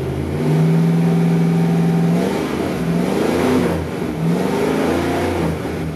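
A 1966 Mercury Cyclone engine revs up steadily, its pitch climbing and dipping in a few swells, loud and close with no talking.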